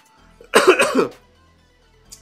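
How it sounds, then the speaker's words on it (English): A single harsh cough burst, close and fairly loud, with a rough throaty tail lasting under a second, then quiet. "Can't shake this cough."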